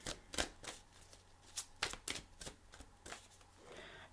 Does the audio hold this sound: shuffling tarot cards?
yes